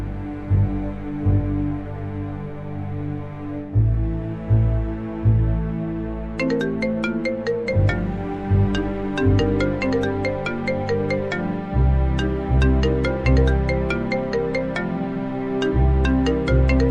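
A phone ringtone plays continuously, a bright repeating melody over a steady electronic backing, loud and close.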